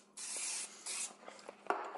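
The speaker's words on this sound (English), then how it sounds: "Second thing, which a lot of people don't do, Pam spray" Pam cooking spray hisses into a crock pot in two long, close bursts, followed by a few short scraping rubs and a clunk.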